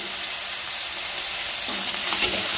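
Brinjal pieces seasoned with salt and turmeric fry in a pan over a medium gas flame, giving a steady, close, broadband sizzle that grows a little louder and busier near the end as the pieces are stirred.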